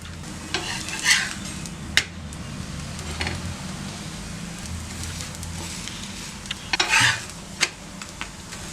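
Multigrain adai frying in oil on a dosa griddle, a soft steady sizzle running throughout with occasional sharper scraping and tapping sounds from a spatula, close by.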